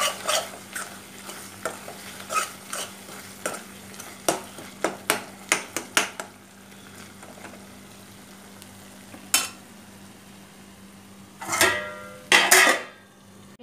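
Chili powder being stirred into tomato curry in a pan: a spoon scrapes and taps against the metal in a quick run of sharp strokes, then slower scattered knocks over a soft sizzle, ending in a burst of louder clatter.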